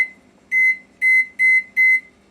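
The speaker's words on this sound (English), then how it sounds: "we're going to set our timer for 10 minutes" An oven timer being set gives five short, bright electronic beeps, evenly spaced and loud and close, with nothing else audible.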